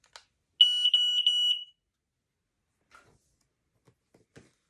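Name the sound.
new smoke alarm sounding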